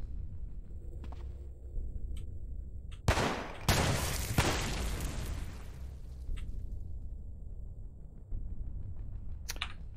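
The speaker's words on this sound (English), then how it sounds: "I think it's just start shooting, really." Gunshots in Cataclysm DDA, a few sharp isolated reports early, then a loud cluster of heavy blasts and bursts in the middle, followed by sparse scattered shots against a low background rumble.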